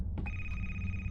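A telephone in the horror video game A Place Forbidden gives one brief, clear electronic ring over a low background hum.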